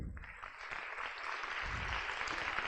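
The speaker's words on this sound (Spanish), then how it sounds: "le damos un fuerte aplauso" Audience applause at a university talk on artificial intelligence and neuroscience, a dense steady wash of clapping that holds evenly throughout the clip with no voices over it.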